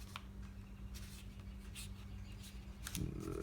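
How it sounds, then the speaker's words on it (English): Sheets of paper are folded and creased by hand, producing soft, close crinkles and brushing rustles in a quiet room, with a slightly fuller rustle near the end and no talking. "I'm going to take this and fold it into"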